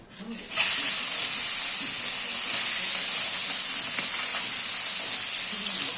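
Small gule fish hit hot oil in a pan and set off a loud, steady sizzle that swells within a second and holds unbroken, close and bright, with no talking.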